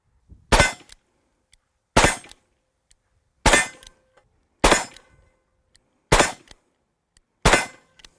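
Six loud, sharp gunshots from a Colt King Cobra Target .357 Magnum revolver, a second cylinder fired at a steady pace about every 1.3 seconds, each a close, cracking blast with a short ringing tail and silence between.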